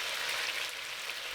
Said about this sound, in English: Sear the pieces of fresh sausage on the meat side for 3 minutes.